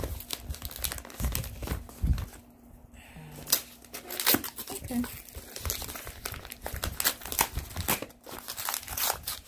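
Close-up crinkling and tearing of plastic or paper wrapping on a package of books, in irregular bursts of rustling as it is pulled open.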